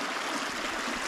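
A Tennessee creek flows with a steady, close, broadband rushing and gurgling of water that never lets up. No voices.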